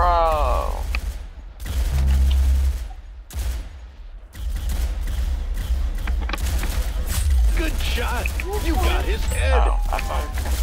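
Gunfire in the video game Arsenal comes as loud, dense bursts and rapid shots with thumps and crashes throughout, mixed with excited voices talking over the action.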